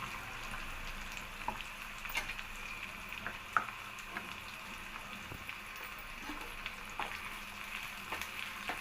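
Cumin, onions, dried red chilies and crushed garlic fry in hot oil as a tempering for drumstick-leaf dal, giving a steady close sizzle with scattered small crackles and pops and no talking.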